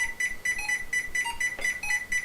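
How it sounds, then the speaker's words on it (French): The silo-full alarm in the Nintendo Game & Watch game Mario's Cement Factory beeps again and again in a fast, steady rhythm. The electronic tones are shrill and insistent, and other faint game blips sound underneath. "lorsque ceux du haut sont remplis à capacité, une alarme lancinante retentit jusqu'à ce qu'ils puissent recevoir une nouvelle charge"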